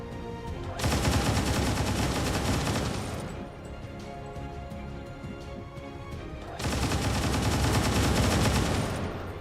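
Rapid XCOM 2 gunfire, loud close bursts of automatic shots in two long volleys separated by a quieter stretch of lingering echo and rumble.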